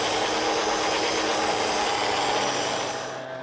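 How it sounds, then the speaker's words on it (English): Right angle grinder fitted with a 5-inch wire brush scrubbing a concrete wall, a loud, steady abrasive whir that holds constant before easing off at the very end. "come behind you with this 5-inch brush on a right angle grinder and just clean it up"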